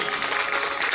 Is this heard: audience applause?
yes